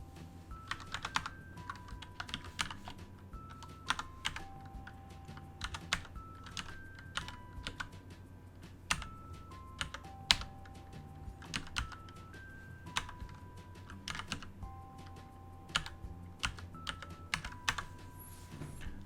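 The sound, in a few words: typing a license activation key on a computer keyboard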